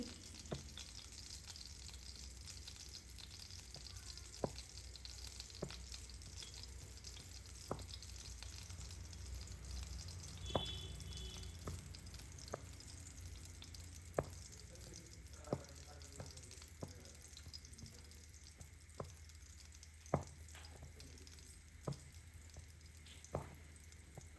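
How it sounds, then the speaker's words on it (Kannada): Prawns fry in hot oil with a soft, steady sizzle, broken now and then by sharp little pops and clicks, fairly quiet and close throughout. "ಎಣ್ಣೆ ಕಾಯಿಲಿ ನೋಡಿದ ಪ್ರಾನ್ಸ್ ಎಷ್ಟು ಚೆಂದ ಫ್ರೈ ಆಗೈತಿ."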